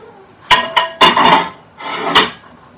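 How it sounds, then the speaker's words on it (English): Cups and plates are washed up in a kitchen sink, with close, loud clinks and scrapes of crockery in a few short bursts separated by brief pauses. "at the moment I've just got cups and that to wash"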